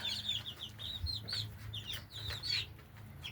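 Bantam chickens cluck and chirp nearby in a backyard homestead, in repeated short, high notes over a low steady background hum.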